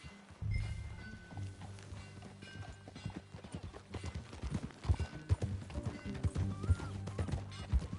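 Horse hooves clip-clop steadily in Red Dead Redemption II, a loud, close, rhythmic trot mixed with game ambience and music-like tones, and an occasional snort or whinny.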